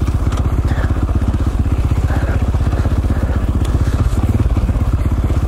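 A 450 four-stroke dirt bike rides rocky single track, its engine a loud, steady, throbbing drone that holds close and constant throughout.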